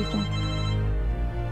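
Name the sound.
telephone ringing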